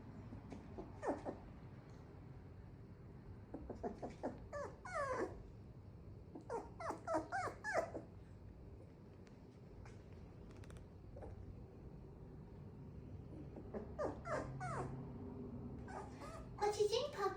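A puppy growls and whimpers in short, squeaky bursts of varying pitch, quiet and close, with pauses between and a person talking softly at times.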